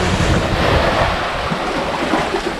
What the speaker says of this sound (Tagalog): ito na yung alon. Ang lakas, oh.